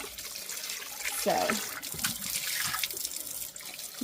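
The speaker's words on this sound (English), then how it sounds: "I usually just get a little bit of water in there and just kind of gently squeeze my butter" Water runs over homemade butter in a bowl to rinse out the buttermilk, a close trickling and splashing as the butter is squeezed, with a person talking over it.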